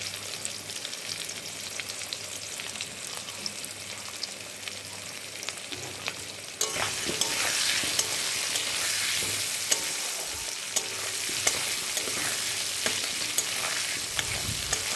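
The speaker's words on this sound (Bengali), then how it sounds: "আলুর মধ্যে একটু নুন আর একটু হলুদ দিয়ে ভালোভাবে ভেজে নেব।" Potatoes frying in oil with salt and turmeric, a steady close sizzle that swells louder about halfway through, with stirring clatter and crackles throughout and no voices.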